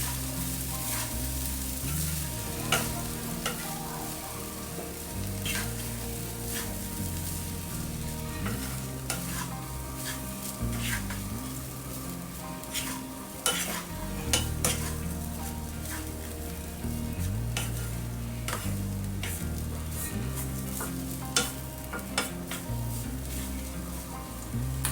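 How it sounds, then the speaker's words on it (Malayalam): Rice frying on high flame while being stirred, a continuous close sizzle with regular scraping and clinking of the spoon against the pan, over soft background music. "റൈസ് നല്ല ബ്രൗൺ കളർ ആവുന്നത് വരെ ഹൈ ഫ്ലെയിമിൽ വെച്ച് തന്നെ ഫ്രൈ ചെയ്ത് കൊടുത്തുകൊണ്ടിരിക്കുക"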